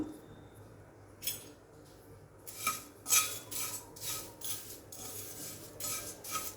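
A spoon scrapes and stirs coriander powder and other spice powders around a pan, giving a run of rough, rhythmic scraping strokes that grow busier and steadier partway through, close up with no talk.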